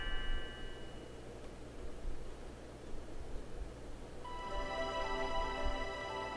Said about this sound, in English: Ah, Lean's bell makes such beautiful music.